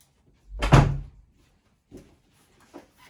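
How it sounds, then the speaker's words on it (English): A house door is opened to let a dog inside, giving one loud thump and rattle of the door followed by two fainter knocks and bumps a moment later, with no talking. "Let me open the door for him."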